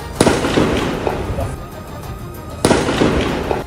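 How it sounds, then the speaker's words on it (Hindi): Gunfire rings out outside a refugee camp in Jenin in the West Bank: two sharp, loud cracks a couple of seconds apart over a noisy, restless background. "गोली चलने की तेज आवाज भी आई"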